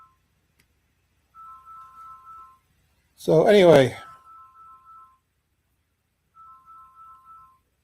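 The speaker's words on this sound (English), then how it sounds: "My phone is ringing." A phone rings with short repeated electronic tone bursts, faint and regular, broken by a burst of talk in the middle.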